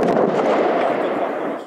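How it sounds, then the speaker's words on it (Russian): An avalanche-control blast on a snowy mountain slope produces a loud, sustained rumbling roar that holds steady throughout and then cuts off. "Вот и в этот раз снег сошел только после одного из трех взрывов."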